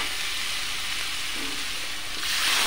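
Spices frying in hot oil for a pumpkin and potato curry, a continuous close hiss and sizzle that swells slightly louder toward the end, with no voices.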